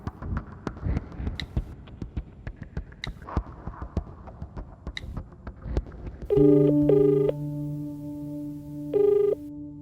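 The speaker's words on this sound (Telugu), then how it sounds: "మనీకి ఫోన్ చేద్దాం." Soft clicks and rustles come first, then a telephone call rings through with loud, clear tonal bursts: two quick pulses, a pause, then another pulse.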